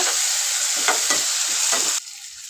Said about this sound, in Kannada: ಎಲ್ಲ ಫ್ರೈ ಆದಮೇಲೆ ಲಾಸ್ಟಲ್ಲಿ ಸ್ವಲ್ಪ ಟೊಮೊಟೊನ ಫ್ರೈ ಮಾಡಿಕೊಂಡ್ರೆ ಸಾಕು